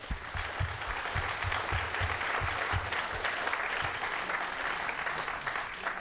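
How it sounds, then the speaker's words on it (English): Sustained applause from a conference audience at a panel discussion on democracy and nuclear deterrence, dense steady clapping filling the room throughout with no voices over it. "je veux vous applaudir déjà"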